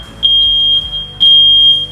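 A smoke alarm sounds after its test button is pressed, giving two loud, piercing, sustained beeps in quick succession, close by and with no other sound.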